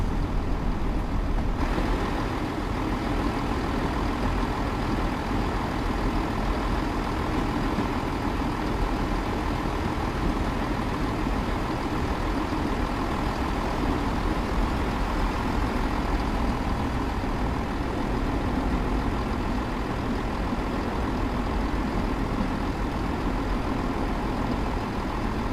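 A train engine in the Train Sim World game on the Thames Branch Lines hums steadily, a continuous low rumble that stays loud and even throughout with no talking.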